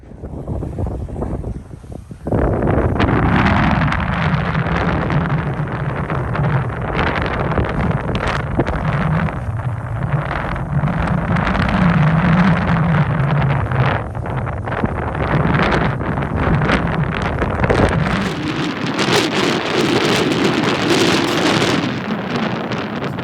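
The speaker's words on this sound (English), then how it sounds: "It's too windy, so we're gonna clean up everything" Strong gusts buffet the microphone on a frozen lake during ice fishing, a loud roaring rush that surges and shifts for over twenty seconds after a short quieter start.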